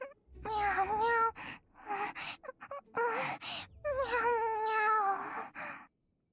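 A cat in the video game Infinity Nikki meows over and over, a run of clear, close, drawn-out cries with brief gaps between them.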